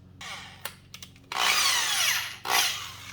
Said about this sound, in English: Any battery operated drill, this is just a really old Ryobi drill.